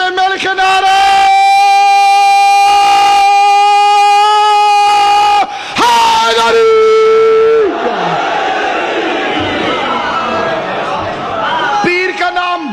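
A crowd chanting slogans together at a religious gathering about Shaan e Ali, loud massed voices shouting in unison over a sustained amplified voice and tone.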